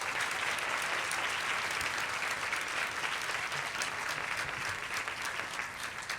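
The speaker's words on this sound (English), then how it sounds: "Can we give another round of applause for our 2026 Women Achievement Award winners?" Dense, sustained applause fills a hall at a Women's History Month luncheon in Bloomington, the audience clapping loudly for Women Achievement Award winners, steady and unbroken throughout.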